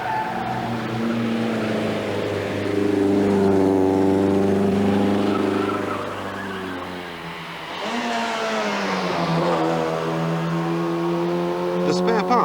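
An old Saab V4 car climbs a steep hill, its engine note rising and falling in a loud, strained drone; the pitch sags briefly mid-way before the engine revs up again.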